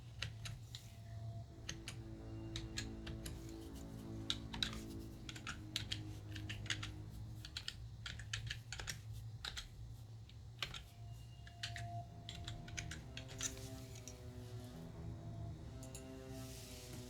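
Steady typing on a computer keyboard while entering login details on a website, with rapid uneven key clicks continuing throughout over a low background hum.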